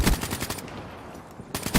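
Automatic weapon fire in the Black Ops 3 video game, with a loud rapid burst at the start, a quieter stretch of low background noise, then another sharp burst of shots at the end.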